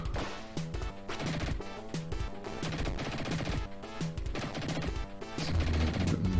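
Dynamite blasts in the Dick Tracy Mega Drive game, a rapid run of sharp crashing bangs and gunfire-like cracks over a busy game soundtrack, loud and dense throughout.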